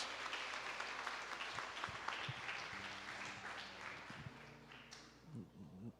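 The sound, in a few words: congregation applause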